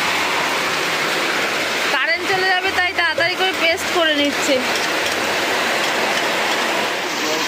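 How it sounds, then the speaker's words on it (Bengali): Heavy rain suddenly pours onto a house roof, a loud continuous roaring wash that runs throughout while a person talks over it for a few seconds. "খুব জোরে বৃষ্টি নেমেছে হঠাৎ করে।"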